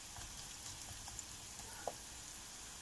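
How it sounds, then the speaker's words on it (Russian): Carrots fry in hot oil in a kazan cauldron, giving a quiet, continuous sizzle and crackle with a few faint pops and a small clink, without talk. "Морковка у нас жарится"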